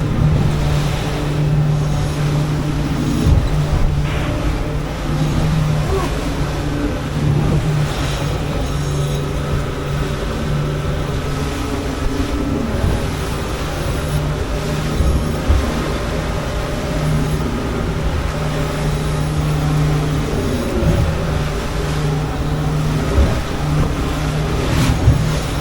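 SeaVee 340B boat running across rough Gulf Stream swell and chop toward Treasure Cay, a steady loud engine drone with wind and hull-slapping water rushing continuously throughout.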